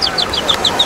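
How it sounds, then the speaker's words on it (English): A small bird chirps in a quick series of high, bright tweets, close and fairly loud, with no talking. "It's just a bird."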